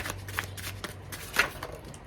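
Slippery tarot cards are shuffled by hand in two quick riffling bursts, close and crisp, with soft handling noise between them.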